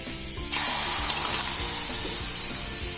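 A milk mixture for homemade condensed milk is poured into a heated pan. After half a second of low hum, a sudden loud, close hiss starts and continues steadily to the end.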